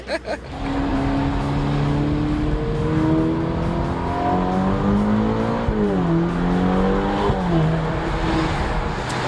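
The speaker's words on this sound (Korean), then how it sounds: "페라리를 타고 있습니다" Ferrari GTC4 Lusso T engine heard from inside the cabin while driving, a loud steady drone whose pitch climbs and falls smoothly as the revs change, continuous throughout.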